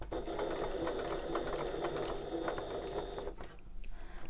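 A sewing machine runs steadily for over three seconds, stitching a line across a fabric tote bag, then stops abruptly, leaving a quieter tail.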